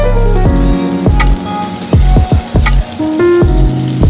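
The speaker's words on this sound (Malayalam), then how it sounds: "ഒന്ന് മിക്സ് ചെയ്ത് ഉരുളക്കിഴങ്ങും സിംല മിർച്ചും കൂടെ ചേർത്ത് കൊടുക്കാം." Soya bean masala with potato and capsicum (shimla mirch) sizzling loudly in a pan, a continuous close frying crackle broken by several sharp stirring scrapes and clatters.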